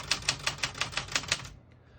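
Keys struck on a Smith-Corona Galaxie Deluxe portable typewriter, about eight crisp, evenly spaced clacks in quick succession, close and alone, then quiet.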